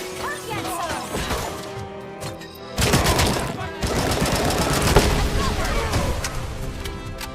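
Gunfire in a video game, dense bursts of loud crashing shots and impacts layered over game noise, with a brief lull midway before the firing resumes.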